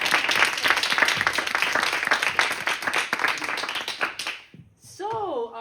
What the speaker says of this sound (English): let's give another applause for Kris.